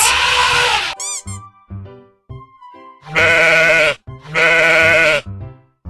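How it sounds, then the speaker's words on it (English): A sheep bleats loudly and close. Brief quavering cries lead into two long wavering bleats, with gaps of silence between them. "Sheep."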